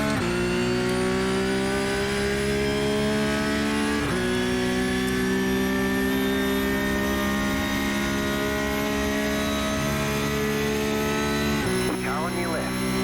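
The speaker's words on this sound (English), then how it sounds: "we're going to get a bad exit. Spin the wheels up really bad" Porsche Cup race car in iRacing at Monza loses traction on a corner exit, its loud steady engine drone holding flat, dipping briefly as the wheels spin up, then climbing again through the gears, with a voice talking over it.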